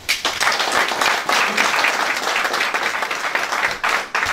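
A hall full of people applauding at an association's general assembly meeting, dense sustained clapping that starts abruptly and stays loud and steady, with a brief dip near the end.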